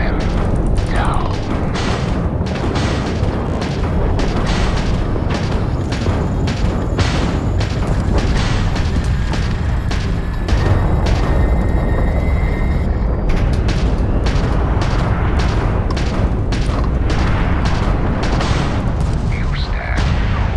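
Starship weapons fire and explosions roar through a space battle in Starfield, a loud, dense barrage of rapid shots and booms that runs continuously, with speech heard in the mix.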